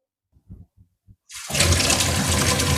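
An opened tap releases a sudden, loud, steady rush of running water that continues to the end, after a few short spoken words in a quiet room.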